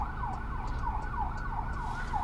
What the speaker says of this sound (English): I'm actually driving past a hospital and there's an ambulance right now as we're speaking into this